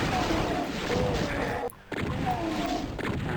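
Rapid plasma gun and shotgun fire in the classic shooter Doom, a dense burst of loud, continuous weapon blasts broken by one short gap before firing resumes.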